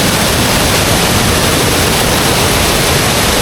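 A strong river current rushes near Bukal Falls, a loud, dense, unbroken roar of churning water filling the whole stretch, close by with no voices.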